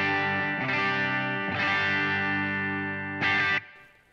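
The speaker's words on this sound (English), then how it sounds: "Clean sounds are as follows, starting with bridge pickup," Electric guitar on the bridge pickup through Matchless and Two-Rock amps plays a few sustained, slightly gritty clean chords, each strummed and left to ring, with a short final chord stopping sharply; no one speaks.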